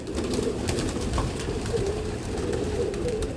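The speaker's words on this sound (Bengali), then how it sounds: "আমার পাশে না পায়রাগুলো আছে, এই জন্য যদি ভয়েস আসে, কিছু ভয়েসের মধ্যে আওয়াজ আসতে পারে ওদের" Pigeons coo close by in a steady, low murmur that runs throughout, with no voices over it.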